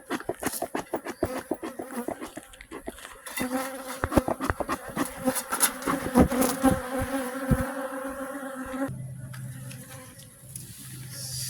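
Dense, loud buzzing of many honey bees close by during relocation of a colony into bee boxes, a steady droning swarm that swells and shifts without pause.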